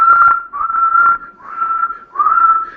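A whistling bong (dab flute) used in Spain gives a loud, steady, high-pitched whistle in four sustained blows with short breaks between them, heard close up with no talking.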